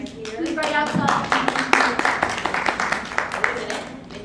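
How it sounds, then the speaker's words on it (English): An audience at a college autism advocacy panel claps for the dean of arts and sciences, a dense round of hand claps that builds quickly and then thins to scattered claps while a voice speaks over it. "you can give him a big round of applause"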